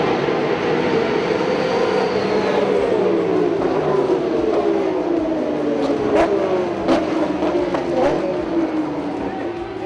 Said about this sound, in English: As the cars roll out for the Sunday Enduro and the last race of 2020